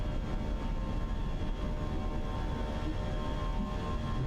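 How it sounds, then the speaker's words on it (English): Airliner jet engines of the IAE type in Microsoft Flight Simulator 2024, heard just after takeoff with the gear retracting, as a steady, loud, broadband roar with a constant drone and no talk over it. "Man, the IAE engines do sound incredible."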